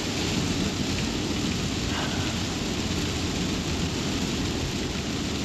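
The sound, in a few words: rain and thunder at a farm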